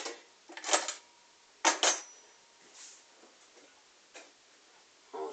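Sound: knife cutting up mushrooms

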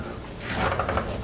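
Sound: putty knife scraping paint off wood

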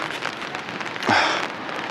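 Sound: rain falling by the Nakasu river in Fukuoka

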